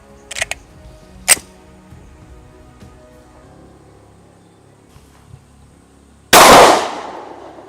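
Glock 43X pistol shots crack sharply at a shooting range: two lighter pops early, then a loud close bang that rings out near the end.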